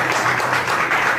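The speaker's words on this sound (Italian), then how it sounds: "un applauso a Alessandro" An audience at a talk about the Monster of Florence case in Catania gives a short, even burst of applause, dense and steady without pauses.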